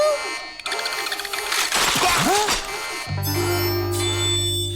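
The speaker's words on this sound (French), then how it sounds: "Une sonnette à l'intérieur, c'est idiot!" A bell rings indoors, shrill and ringing, mixed with voices and clatter, then a steady electronic tone takes over near the end.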